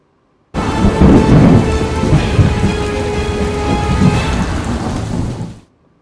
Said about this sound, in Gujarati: ઉમરપાડામાં ભારે પવન સાથે કમોસમી વરસાદ